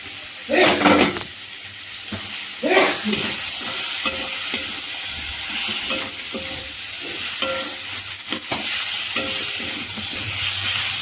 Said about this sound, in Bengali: এবার শুকনো মাছগুলো দিয়ে নেড়ে নেবো